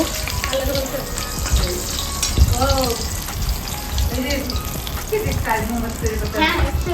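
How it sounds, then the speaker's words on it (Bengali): A fresh batch of fish sizzles steadily in hot oil, a dense close crackle that runs throughout, with someone talking softly in the background at moments. "এখন আরও কিছু মাছ আছে সেগুলো এখন ভেজে নেব"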